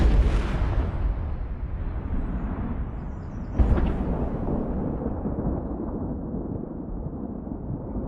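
A target struck and blown apart in a staged zombie-apocalypse test, heard as a dense, rumbling explosion roaring loud from the start, with a second burst of debris at about three and a half seconds before the blast slowly dies away.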